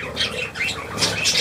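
A seagull gives a couple of short squawking calls, moderately loud and close, over a constant outdoor hiss.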